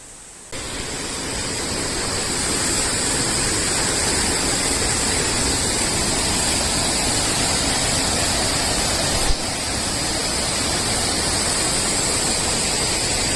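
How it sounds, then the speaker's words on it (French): A small river flows below a mountain road in Georgia, a steady broadband rush of water that stays loud and constant throughout with no voices. "Une petite rivière en bas."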